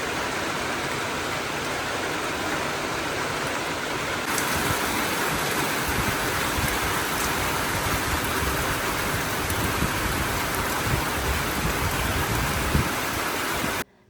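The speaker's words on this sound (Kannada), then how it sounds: "ಮಳೆ ಸದ್ಯ ನಿಲ್ಲಲ್ಲ" Rain falls steadily outdoors as a dense, unbroken hiss that swells a little louder after a few seconds and stays constant, close and loud, with no voices.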